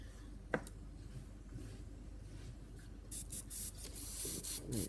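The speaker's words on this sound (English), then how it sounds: "I'm going to be using Tamiya's Flat Earth XF52, which is an acrylic paint, and I've just thinned that down for my airbrush." An airbrush sprays thinned Tamiya Flat Earth XF52 acrylic paint in short breathy hisses that start about two-thirds of the way in, after a quiet stretch with one small click.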